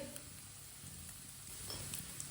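Salt, ground red chili and turmeric frying in a pan on low heat for aloo tikki, a faint, steady soft sizzle throughout with no talking.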